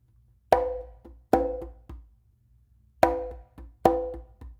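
Conga slap-and-ghost-note triplets strung together: four bright slaps, each trailed by two lighter ghost taps, in a steady rhythm with a pause midway, close and dry, no voices.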